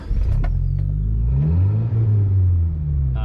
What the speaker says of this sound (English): the last time I was out in the car, I lost my muffler, so it sounds like this.